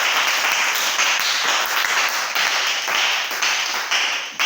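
A church congregation applauds together to acclaim the Lord, a steady, dense wash of clapping that sustains at full loudness for several seconds with no talking.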